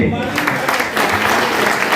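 Audience applause breaks out during a network marketing talk, a steady wash of many hands clapping at moderate loudness, with a voice briefly audible underneath.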